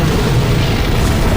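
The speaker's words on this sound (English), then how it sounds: "The explosions of the eggs lined up with the music." Eggs exploding in Donkey Kong Country Returns come through as a dense, steady wash of low booming bursts blended with game music, loud and continuous with no pauses.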